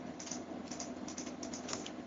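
Light, irregular key taps come from a PC keyboard as a web address is typed into a browser. The clicking is soft and close over a steady low hum, with no speech.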